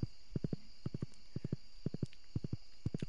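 Horse hooves clip-clop in quick groups of three while riding in Stardew Valley, a steady repeating gallop rhythm over a quiet game background.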